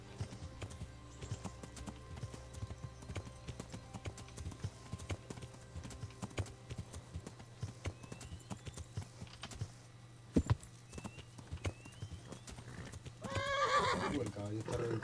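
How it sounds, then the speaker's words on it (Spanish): Steady hoof clip-clop of a horse in a video game, with an occasional whinny, runs faint and continuous beneath someone speaking Spanish, with brief louder knocks near the end. "El caballo está reventando, pero ya estamos al lado."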